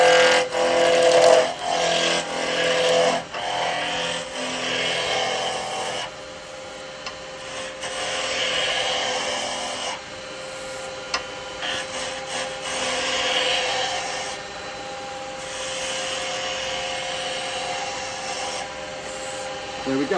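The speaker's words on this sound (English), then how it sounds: "Start the lathe up." A wood lathe spins a blank down to round, the gouge producing a continuous rough scraping and rubbing hiss that varies in intensity, loud and close.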